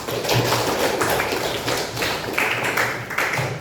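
A classroom of students applauding, a steady, dense patter of many hands clapping together, loud and close, with no talk over it.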